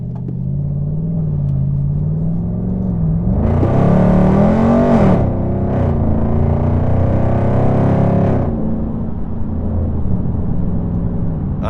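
Loud Dodge SRT engine revving hard with a deep rumble, rising sharply mid-clip as the tires spin, then settling back to a steady heavy drone; no talking.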